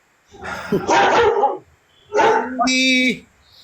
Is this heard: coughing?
no